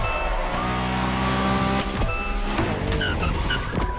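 A BMW Z4 M40i roadster from The Crew Motorfest gives a steady, droning engine note with shifting pitch, plus a few short high chirps near the end.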